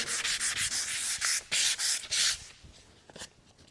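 Sandpaper rubbed by hand across a wooden piece to scuff it, a rapid run of rasping back-and-forth strokes, close and steady, then a few lighter scattered scrapes as the work tapers off.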